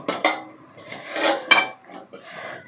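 A lid set onto a cooking pot for a breakfast dish, with a few close metallic clinks and scrapes in quick succession, fairly loud against a quiet background.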